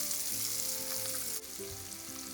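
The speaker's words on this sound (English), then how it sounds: "roast them well in oil for 2 to 3 minutes or until the dals become golden brown" Dals and chopped ginger frying in hot oil, a loud, close, continuous sizzle with faint stirring scrapes, no voices.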